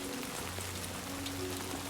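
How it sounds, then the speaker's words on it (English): Steady hiss of rain pattering on surfaces in the video game Death Stranding 2, soft and even for a couple of seconds, with no talking. "This is the most realistic fucking rain I've ever seen in a game."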